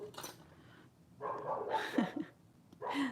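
Several muffled dog barks come in bursts with brief gaps between them, distant and fairly quiet.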